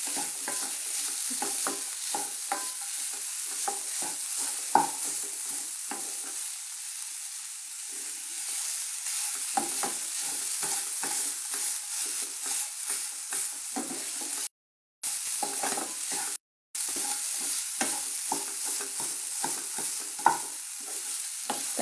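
Cashews frying in a hot pan with oil, with a steady sizzle under repeated scraping and stirring strokes; continuous and close, with no talk.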